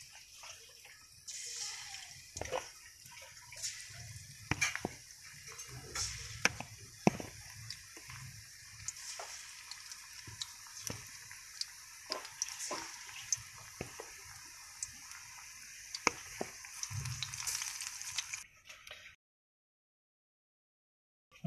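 Chili pakoras (mirchi vada) frying in hot oil give a continuous soft hiss and crackle, broken by scattered clicks and taps, for about eighteen seconds before cutting to silence.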